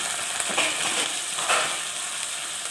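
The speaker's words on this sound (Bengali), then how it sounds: "হালকা চিনি, হালকা একটু জল দিয়ে এবার নাড়তে থাকবো" Soybean masala with salt, a little sugar and a splash of water is stirred in a pan. A steady close sizzle runs throughout, with soft scraping swells from the stirring and no voices.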